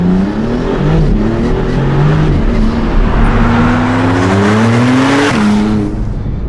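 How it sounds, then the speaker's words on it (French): A Maserati MC20 supercar engine revs hard, its pitch climbing and dropping through gear changes, loud and close with no talking. "En 9e place, la Maserati MC20. On va écouter la sonorité."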